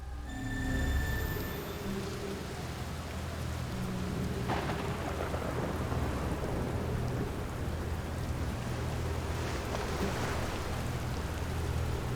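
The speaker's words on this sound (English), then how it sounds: "I hear that storm, and I don't like it." Steady rain pours through a thunderstorm on the ocean planet Giant's Deep in the video game Outer Wilds, with rolling thunder and gusts swelling over a constant wash, loud and close, with no voices.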